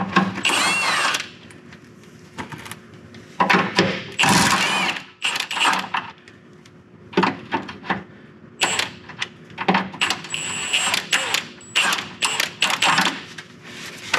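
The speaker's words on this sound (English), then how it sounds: "there's two 17 millimeters that go up into the transmission mount. So I'm just gonna break these free." A tool loosens the 17 mm transmission mount bolts during a 100 Series motor mount replacement. Repeated loud mechanical rattling bursts come up close, separated by brief pauses.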